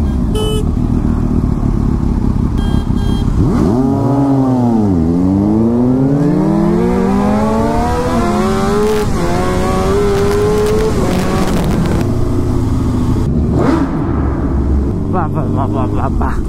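A Royal Enfield Interceptor motorcycle engine revs at a college auto expo, loud and close, rising and falling in long sweeping pitch arcs over several seconds amid crowd noise and talk.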